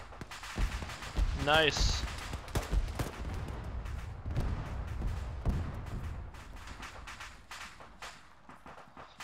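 Video game gunfire in a military squad shooter: sharp bursts of shots crack out in the opening seconds, then scattered pops and rumbling hits continue underneath steady chatter from several players.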